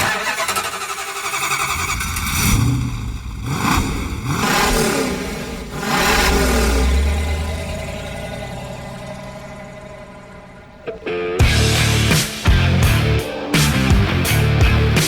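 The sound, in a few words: 1969 Plymouth GTX 440 Super Commando engine revving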